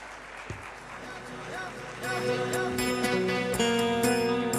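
Audience applause welcoming singers onto a stage at a literary festival, clapping that swells partway through while music tones and talk sound over it.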